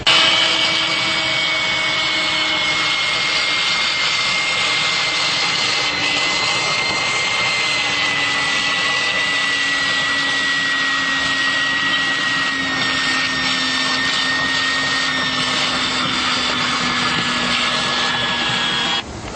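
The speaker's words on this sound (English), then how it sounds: "take a wet vac and vacuum out this condensate pan" A wet vac runs steadily and loudly, vacuuming trash out of an HVAC condensate pan during coil cleaning, a continuous whining motor drone with a shifting pitch tone that holds throughout.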